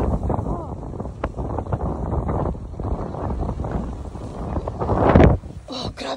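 Strong wind blasts across a boat in bad weather, a steady roaring buffet of gusts against the microphone that swells louder near the end, with voices faintly present.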